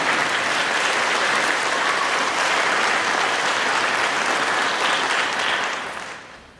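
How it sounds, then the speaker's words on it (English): Dense, loud applause fills the hall at an academic awards ceremony, a crowd clapping steadily before fading out at the end. "let's clap for Danielle."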